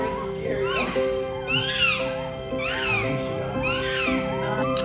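Newborn Dalmatian puppies cry in repeated high, rising-and-falling squeals, close and loud, roughly one every second, with a low background hum.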